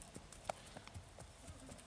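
A 9-year-old black horse's hooves clip-clop in a few light, irregular steps, fairly faint and close, with no talking over them.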